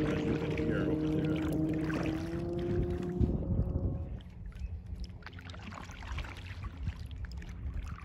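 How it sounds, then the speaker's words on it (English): A passing boat's wake rolls across a lake with a faint, steady wash and wind noise, while the low drone of a distant motor boat fades out partway through. "they're gonna cause a big wake, as you can hear over there"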